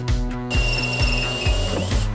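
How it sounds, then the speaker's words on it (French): A 38 mm hole saw on a power drill bores holes through a van wall, close and loud. The drone is steady under a high whine, with rhythmic thumps as the cutter bites in. "on va faire des trous à la scie cloche à 19 mm du bord, parce que c'est une scie cloche de 38"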